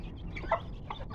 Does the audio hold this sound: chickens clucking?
yes